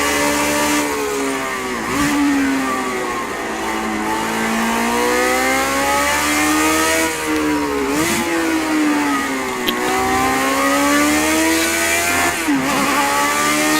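A race car engine in Project Cars 2 revs and pulls through the gears, its pitch climbing steadily then dropping sharply at each upshift, a loud, close, continuous drone with repeated shift dips.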